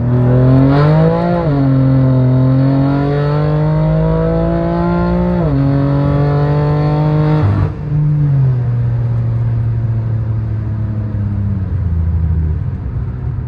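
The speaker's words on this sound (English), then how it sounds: "I'm gonna give you a 40 pull and downshift a couple gears, probably to like second gear" A straight-piped BMW M3 pulls hard in second gear from inside the cabin, its loud raspy exhaust rising in pitch, dipping briefly at a shift, then climbing again before easing off, with no talk.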